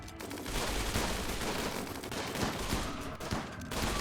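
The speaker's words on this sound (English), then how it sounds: "Yep, rotary cannons are opening fire now." Rotary cannon turrets firing in the video game Rimworld, a dense rapid stream of overlapping shots that rattles continuously at moderate level, with sharp individual cracks poking through the barrage.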